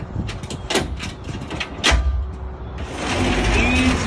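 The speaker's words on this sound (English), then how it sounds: "Easy roll up doors" A fire truck's roll-up compartment door rattles and slides along its track in a couple of quick pulls, then a steady rushing noise takes over.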